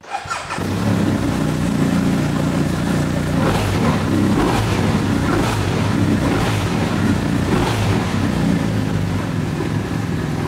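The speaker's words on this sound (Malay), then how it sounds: "jom kita dengar bunyi motor ni." A BMW R1250RT touring motorcycle engine starts up and settles into a loud, steady rumbling idle that runs continuously and close by, with occasional slight revs.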